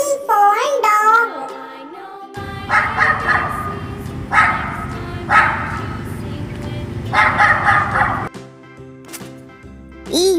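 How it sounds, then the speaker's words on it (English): A dog barks in a cheerful children's phonics alphabet song, several short sharp barks recurring at intervals over a bouncy musical backing with tonal melody at the start and end. "D for dog."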